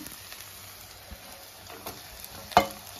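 Tomato pieces frying in oil in a pan for chicken sherva, a soft steady sizzle with a single sharp clink near the end, quiet and close, no talk.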